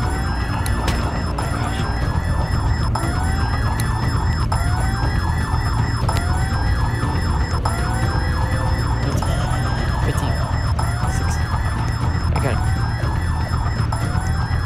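An alarm blares after glass is smashed in the Roblox game Field Trip Z, a loud, continuous siren that keeps repeating rising wails for the whole stretch.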